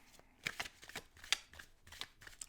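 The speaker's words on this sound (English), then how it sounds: "So I will have to just be happy with overhand shuffling." Oracle cards being shuffled overhand, a quiet close-up series of soft papery riffles and flaps in uneven bursts, with faint background noise between them.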